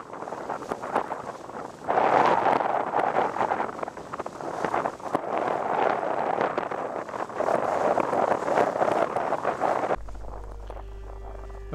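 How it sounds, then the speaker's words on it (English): Strong wind at sea aboard a Carver 3207 motor cruiser approaching Spurn at night, buffeting the microphone in loud, surging gusts that rise and fall throughout. "the winds got up, started howling"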